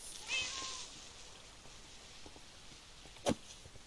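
A single cat meow from the game Minecraft, faint and brief near the start, with a soft click later and quiet background.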